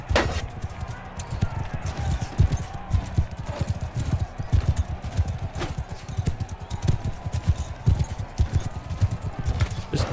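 Horse hooves clip-clop in a steady, busy rhythm in the Bannerlord video game, a dense galloping patter with a faint whinny among battle noise and a voice talking over it.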